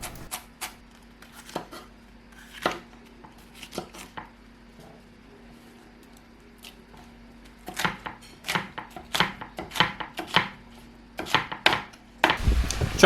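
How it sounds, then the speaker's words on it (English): Knife chopping garlic, fresh chilli, celery and red pepper on a board: sparse single knocks at first, then quicker bursts of sharp close chops, ending in a dense flurry. "we're going to prep the rest of the veg. Garlic, fresh chilli, some celery, a red pepper."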